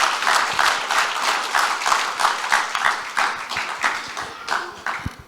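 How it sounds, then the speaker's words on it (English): Audience applause at a church testimony panel, a loud, dense round of many hands clapping with some individual claps standing out, holding steady for several seconds before thinning at the end. "Give me a round of applause."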